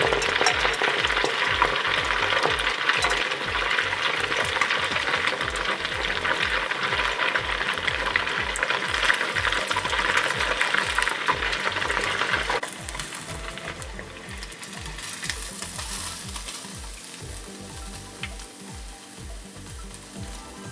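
Small pieces of fish drop into hot oil for Myanmar-style fried fish, giving a loud, dense, steady sizzle that eases to a quieter, crackling fry about midway, with no talking.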